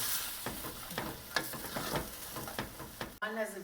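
A spoon scrapes the bottom of a pan while white wine sizzles for chicken cacciatore, with steady frying hiss and repeated rhythmic scraping strokes up close, ending in a brief clunk.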